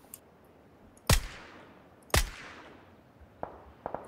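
Two sharp, loud gunshots about a second apart ring out in a video game shootout, each with a short decaying tail, followed by a few faint clicks and ticks.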